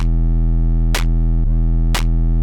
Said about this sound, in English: you got this horrible muddy sine wave, right, which is all distorted